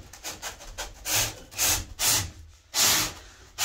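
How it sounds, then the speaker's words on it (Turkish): White foam being rubbed in a room, a series of scratchy, squeaky rubbing strokes in irregular bursts, fairly close and loud, with no talking. "Yalnız bu köpüğün sesi midir nedir arkadaşlar?"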